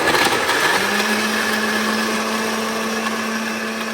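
A blender whirring steadily as it blends a banana and oat smoothie, one loud continuous motor drone with a fixed pitch, close by and without talk.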